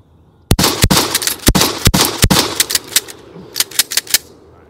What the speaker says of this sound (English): let's do a test right now as to see what it's like to actually slam fire this thing